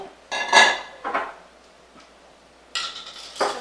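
A bowl being grabbed and handled among dishes in a home kitchen while preparing a blackberry jam balsamic dressing: four or five sharp ceramic clinks and knocks, close and fairly loud, spaced unevenly with quiet gaps between.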